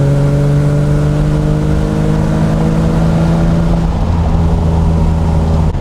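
A BMW E36 M3 cruises in fourth gear at around 3,000 RPM, its engine giving a loud, steady, even drone from inside the car, with no talking.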